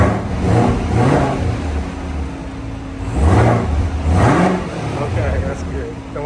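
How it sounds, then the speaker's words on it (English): A Chevrolet Camaro ZL1 engine revving, several swelling blips that rise and fall over a rumbling idle, loud and close, with a voice speaking briefly in between. "You give it a little rev."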